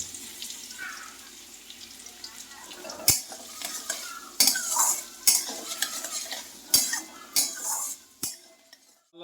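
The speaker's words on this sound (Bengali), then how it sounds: "এবার আমি এই পেঁয়াজ কুচিটা দিয়ে দিচ্ছি পেঁয়াজটা বেশ লাল লাল করে ভাজতে হবে" Chopped onion frying in a pan for a dhaba-style egg curry, with a steady close sizzle broken by several sharp clanks and scrapes of a utensil stirring against the pan.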